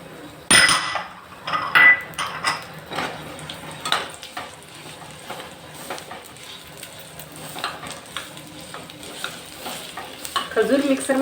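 Pitted dates with a spoon of ghee are roasted and stirred in a pan on low gas for date barfi, giving repeated scraping spatula strokes and clinks over a soft, steady sizzle.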